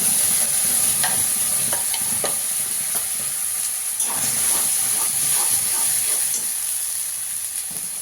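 Green pea paste fries in ghee with a pinch of asafoetida in a kadai, giving a steady close sizzle and hiss broken by repeated spatula scrapes and taps as it is stirred, with no talking.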